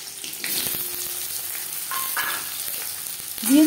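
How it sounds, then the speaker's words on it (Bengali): Whole cumin seeds fry in hot oil with a steady, dense crackling sizzle, close and continuous, with a few faint clinks of a utensil and a brief rising scrape near the end. "সামান্য পরিমাণে গোটা জিরে, দশ 15 সেকেন্ড জিরে ভেজে নেওয়ার পর"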